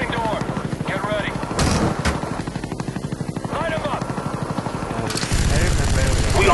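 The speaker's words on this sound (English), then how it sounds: "Chopper gunning everybody on the field." A helicopter fires its guns in a shooter video game, rotor thumping rhythmically under bursts of rapid machine-gun fire and heavier blasts, loud and close, with voices heard amid the din.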